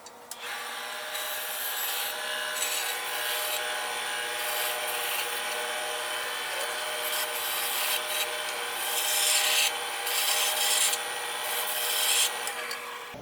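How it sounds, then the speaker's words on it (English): A bandsaw trims the sharp edge off an HDPE pen blank made from plastic caps and scraps, a close, continuous whine with rasping cutting noise that swells and eases as the piece is fed. "I'm going to go ahead and get rid of the sharp edge on the bandsaw"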